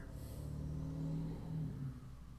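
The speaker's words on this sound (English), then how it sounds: "there goes a car" A car passes by outside, a low steady engine rumble swelling and fading over a couple of seconds, muffled and somewhat distant, with no speech.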